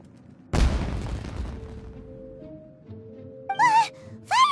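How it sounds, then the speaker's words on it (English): A loud boom bursts out at the start of a Genshin Impact game scene, its rumble trailing off over a few seconds, and short game voice sounds follow near the end. "Was that an explosion?"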